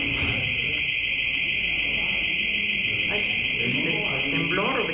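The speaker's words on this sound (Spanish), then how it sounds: "No, es otro tipo de alarma." An alarm sounds at a Mexican mine, a steady continuous high-pitched electronic tone running throughout at constant loudness while people talk underneath.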